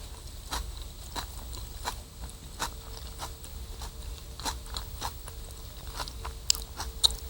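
Someone eating a crunchy wild-leaf salad with a nut sauce, giving a steady series of close, sharp crunching bites and chewing at irregular intervals in a quiet room.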